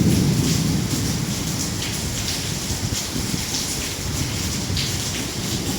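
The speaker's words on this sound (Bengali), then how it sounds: "খুবই বিদ্যুৎ চমকাচ্ছে প্রচণ্ড বৃষ্টি হলো" Heavy rain pours steadily in a dense, continuous roar near a building during a storm with lightning, with no distinct thunderclap standing out.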